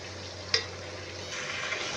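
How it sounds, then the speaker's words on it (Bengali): Fried fish heads and fried potatoes are stirred through a pan of cooked-down spices, with a steady close sizzle, one sharp clatter of a utensil early on, and the frying growing a little louder toward the end. "এবার আমি এগুলো দিয়ে ভালো করে একটু নেড়ে নেব।"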